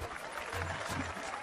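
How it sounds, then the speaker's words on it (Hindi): An audience breaks into brief, dense clapping at a gathering, a steady burst of applause that carries evenly through the short moment. "ये देख क्या रहे हो, तालियां बजाओ।"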